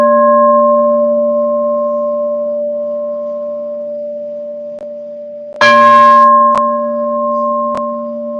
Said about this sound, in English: ring these bells, Tibetan bowl sounds